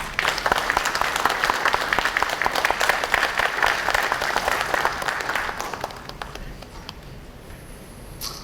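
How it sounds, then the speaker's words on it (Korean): Sustained audience applause fills a forum opening ceremony hall, dense steady clapping welcoming the chairman of the Korea Exchange to the stage, fading out near the end. "큰 박수로 이사장님을 환영해 주시기 바랍니다"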